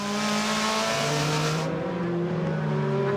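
DTM touring cars racing at the Zandvoort circuit in 2001, a loud sustained engine drone with steady harmonic tones that shift in pitch as the cars run close by, without any talk over it.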